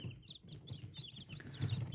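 Young chicks of hen breeds such as Dominant D109 and Master Grey cheep softly in a brooder, with faint clucking, several overlapping short calls at low volume.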